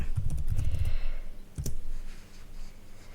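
Keystrokes clatter on a computer keyboard while a label word is typed into Cricut Design Space, a quick burst of close clicks followed by a single sharp tap and then quiet.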